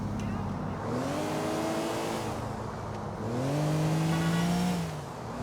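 A car engine in the video game GTA IV revving up twice, each rev climbing in pitch over a rumbling idle, loud and close, with no talk over it.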